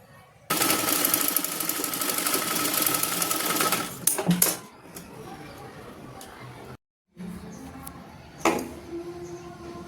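A sewing machine stitches a blouse in a fast, loud, continuous run lasting a few seconds, then stops with a couple of clunks, followed by quieter handling noises and another brief burst.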